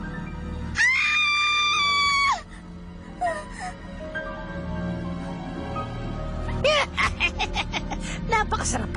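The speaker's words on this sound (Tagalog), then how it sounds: "Napakasarap pakinggan ng sigaw mo, parang musika." A person screams loudly in a Tagalog-dubbed animated show, a long shrill cry for about two seconds, followed by shorter yelps and gasps, with voices speaking throughout.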